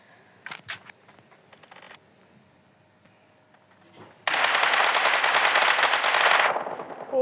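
Gunfire in the mobile game PUBG Mobile: a few scattered sharp shots, then a dense, loud sustained automatic burst lasting about two seconds.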